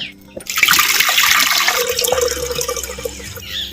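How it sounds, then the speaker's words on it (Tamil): Water poured into a clay pot holding elephant foot yam, a steady splashing pour that starts sharply and runs on continuously, close and fairly loud with no talking. "கிழங்கு வேக வைக்கிறதுக்கு தேவையான பச்சை தண்ணியை சேர்த்து இப்போ"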